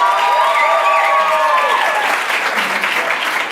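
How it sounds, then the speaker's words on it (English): A live stage audience applauds and cheers for a contestant named Alvin, dense loud clapping mixed with whoops and shouting voices throughout. "Clap if you're for Alvin."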